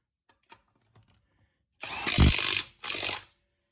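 A Milwaukee 3/8-inch impact wrench running on setting 3 gives two loud bursts, a longer hammering run then a shorter one, close by after a few faint clicks.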